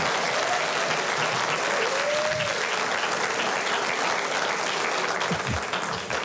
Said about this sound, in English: please refrain from applause so we can get through public comment.